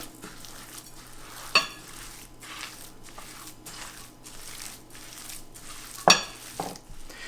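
Chopped steak mixture being mixed with Worcestershire sauce and an egg, soft squishing and scraping strokes in a bowl with two sharper knocks, fairly quiet throughout.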